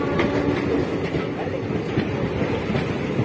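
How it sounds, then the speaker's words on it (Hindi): An Indian MEMU passenger train runs on rails between Delhi stations, with steady rumbling carriage noise and a rhythmic clickety-clack of wheels heard from inside, loud and continuous. "चल पड़ी हमारी ट्रेन।"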